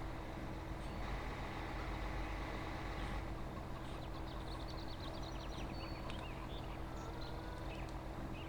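A heavy truck works hard climbing a steep quarry track with one wheel lifted off the ground, its engine droning loud and steady throughout, with faint higher squeaks and rattles over the rumble.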